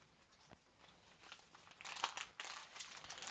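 A crinkly plastic bag holding boxed mac and cheese is pulled open, with close, bright crackling and rustling that builds into denser crinkles toward the end.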